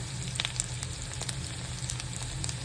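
Onions sauté in a pan for ginataang tulingan, giving a steady, close sizzle with small crackling pops throughout and no voices.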